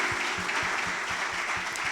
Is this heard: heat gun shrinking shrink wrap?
no